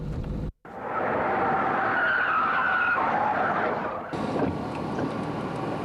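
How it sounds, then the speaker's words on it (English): A car sliding into a rear-wheel skid, oversteer, with a loud continuous tyre squeal and roar lasting several seconds after a brief gap, close and alone without talk. "that is a rear wheel skid called an oversteer."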